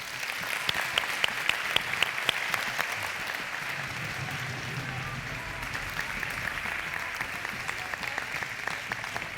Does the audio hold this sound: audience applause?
yes